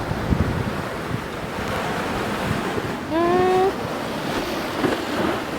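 Strong sea waves surge and crash along the shore in gusty wind, a loud rolling roar with buffeting wind noise on the microphone and a brief whistle-like tone partway through.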